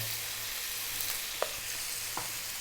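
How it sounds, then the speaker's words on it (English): Chopped garlic hits a hot pan and sizzles in a steady broadband hiss, with a couple of soft clicks from a utensil on the pan surface. "What I want to do now is drop in some garlic."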